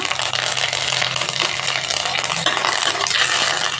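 Chana dal, urad dal and curry leaves frying in oil, a loud, dense, unbroken sizzle close by, with light scraping of a spoon stirring through it.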